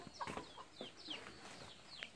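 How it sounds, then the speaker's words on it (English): Chickens cluck in short, faint, scattered calls with rising and falling squawks, heard alone with no talking. "those my younger brother's chicken right there"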